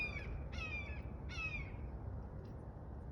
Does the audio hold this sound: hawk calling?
yes